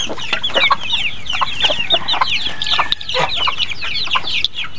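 A hen on her nest in a rural provincial farmyard clucks in steady, close, repeated bursts, with other chicken calls continuing throughout.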